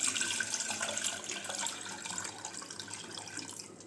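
Soaked tamarind water for rasam pours through a sieve, giving a steady, close splashing trickle that stays fairly even throughout with no talking.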